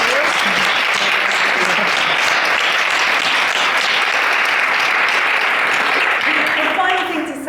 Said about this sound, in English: give these ladies an amazing round of applause